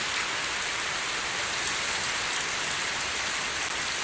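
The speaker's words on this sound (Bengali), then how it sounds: "সারাদিনে বৃষ্টি চলতেছে" Heavy rain pours down steadily in a dense, even hiss with a few pattering drops on surfaces, close and continuous with no voices.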